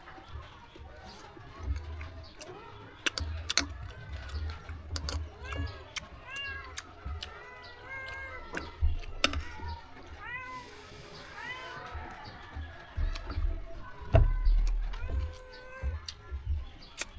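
Several cats meow repeatedly while being fed fish, their cries close and insistent, overlapping in quick bursts throughout, with scattered sharp clatters and bumps and a few background chirps.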